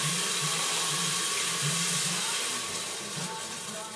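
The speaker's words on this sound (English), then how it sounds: "I am adding 1 cup of Guinness to deglaze the pan" Guinness pours into a hot pan to deglaze it, giving a steady loud sizzle and hiss that fades slightly toward the end.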